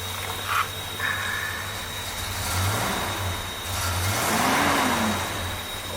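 A 1971 Dodge Charger R/T with a 440 Six Pack V8 runs on a cold start, a steady low engine rumble with a couple of swelling revs, close and fairly loud.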